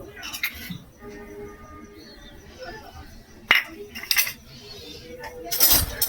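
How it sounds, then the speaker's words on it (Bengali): Bamboo coffee being stirred with a fork to dissolve the sugar, giving faint scraping and clinking of metal against the cup, with sharper clinks near the middle and toward the end. "এবার কাঁটা চামচ নিয়েছি, ভালো করে চিনিটাকে গুলে নেব"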